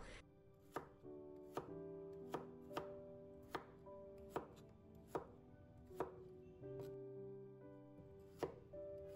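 A knife chops steadily through thick potato slices on a cutting board, cutting them into strips with about a dozen crisp, evenly spaced strokes, close and clear with no talking.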